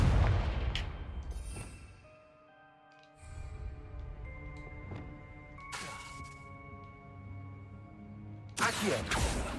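Confringo fire spell blasts in the video game Hogwarts Legacy: a few sharp booming impacts, with a loud crashing burst near the end, over a sustained game music bed with no talk.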